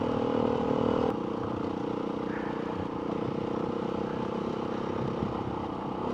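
A Beta 390 RR dirt bike fitted with a road-legal standard exhaust drones steadily at a distance, one continuous engine note that dips slightly after the first second and then holds even, with no voices.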